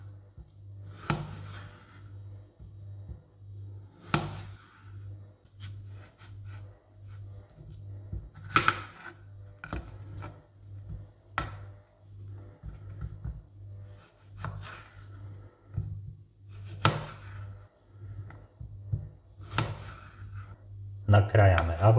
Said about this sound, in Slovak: Nakrájame uhorku na tenké pasiky.